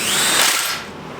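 A cheap drill bit bites into metal on a budget twin-turbo LS Malibu project, a loud close power-drill whine lasting about a second before easing off.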